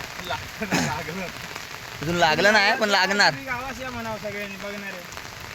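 Heavy monsoon rain pours down in rural Konkan during a flood, a steady hiss of rain beating on surfaces throughout, with someone talking over it close by.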